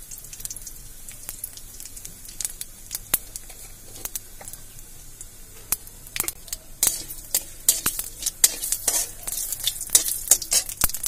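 Bay leaf and cumin sizzle in hot oil in a wok, with a steady crackling fry under sharp, rapid popping spits that grow busier toward the end, mixed with stirring scrapes.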